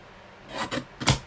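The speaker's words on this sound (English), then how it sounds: "I love this little trimmer." A small paper trimmer slices through a card mat in a few brief scraping strokes, the last one the loudest, close by with no talking.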